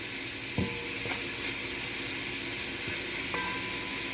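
Soy sauce fried noodles sizzle steadily in a hot pan, a continuous loud hiss of frying with a few faint clinks of a utensil against the pan.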